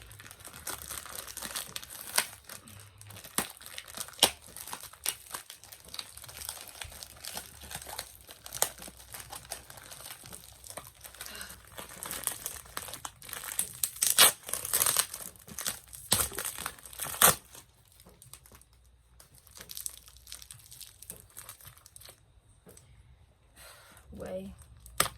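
A handbag package's plastic wrapping and tape being pried open with a pen, irregular close crinkling, tearing and scratching bursts that come and go throughout, with a voice talking at times.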